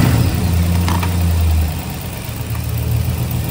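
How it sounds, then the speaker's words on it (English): A 5.3L V8 engine in a 2006 Chevy Silverado pickup idles loudly up close, a deep steady rumble that briefly shifts pitch midway, with faint clunking knocks beneath it. "There's some kind of clunking somewhere."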